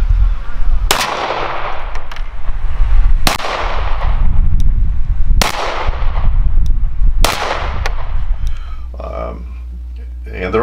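Ruger 1911 pistols in .45 and 9mm fire four loud, sharp shots spaced about two seconds apart, each followed by a ringing decay, with a voice talking over the shooting.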